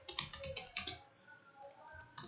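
Someone types on a computer keyboard, producing a quick run of soft, close key clicks that fades to quiet before a single last tap.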